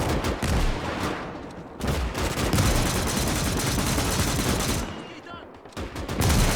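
Heavy machine gun fire in the World War II video game Gates of Hell: Ostfront, a dense, loud, continuous burst of gunfire in battle, with only brief pauses in the firing.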